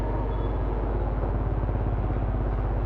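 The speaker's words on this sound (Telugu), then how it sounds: "ఎగ్జాస్ట్ నోట్ కూడా ఒకసారి మీకు వినిపిస్తాను ఆన్ చేసి." A Suzuki Gixxer SF250 motorcycle idles close by, a smooth, steady low exhaust burble with an even, rapid pulse and no revving.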